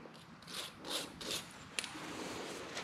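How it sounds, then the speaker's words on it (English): A brush is rubbed back and forth across a brake pad from a Can-Am Spyder's front brakes: soft, close scratchy strokes in a loose rhythm, with a small click near the end and no talk. "I'm just rubbing the brush across it."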